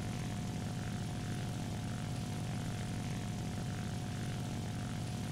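The propeller engine of an IL-2 attack plane in the War Thunder video game drones steadily and loudly throughout, an unbroken aircraft roar with no talking.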